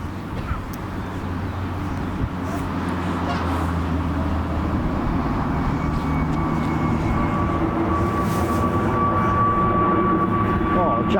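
Brussels Airlines airliner passing near Myrtle Avenue at London Heathrow, a broad, steadily building jet roar with a rising whine, heard alongside nearby chatter from plane spotters.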